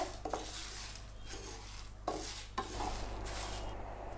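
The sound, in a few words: masala roasting in a pan for chicken fry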